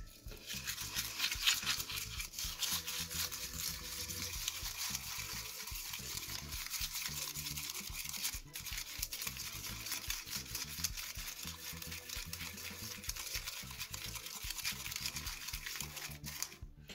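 A thick homemade slime of shampoo and powdered sugar is stirred steadily, giving continuous close, faint squelching and scraping with small clicks of the utensil throughout.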